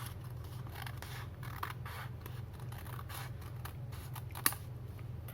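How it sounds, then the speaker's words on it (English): Scissors snip through origami paper to trim away the excess, a soft run of close crisp cutting and rustling strokes with one sharp click near the end. "you can take your scissors and cut off the excess"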